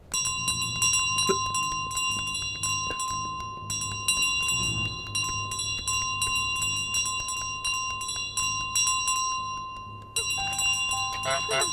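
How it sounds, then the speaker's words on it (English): A small bell in Untitled Goose Game rings over and over in quick, bright strikes, loud and close throughout, with a brief pause before ringing resumes near the end. "what do you think, you're gonna stop a goose with a bell?"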